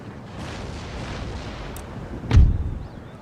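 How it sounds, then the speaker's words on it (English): Artillery fires on a battlefield in Empire: Total War, a single deep boom rolling out over a steady rumble of distant battle noise, loud and close, with no talk. "Keep using my artillery"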